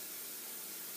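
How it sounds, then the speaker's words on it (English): Non-stick cooking spray hisses steadily into a 9x5 metal baking pan, a single continuous close spray for about a second with no talk. "spray it generously with some non-stick spray."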